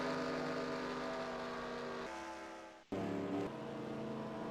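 Race cars at speed during green-flag racing at Phoenix in the Circle K 200, a steady high engine drone with shifting revs that cuts out sharply for a moment and then roars back, with no talking.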